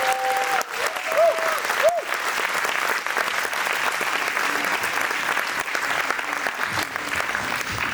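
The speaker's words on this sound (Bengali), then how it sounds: "একটা বড় জোরদার হাততালি কিন্তু এই সকল ক্ষুদে শিল্পীদের কিন্তু পাওয়া যায়।" An audience gives young performers loud, sustained applause, dense clapping that runs evenly throughout at a Bengali community stage show in Singapore.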